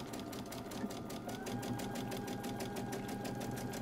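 Sewing machine stitching the seam of a fabric face mask, a steady rapid needle chatter running continuously and close up with no talking.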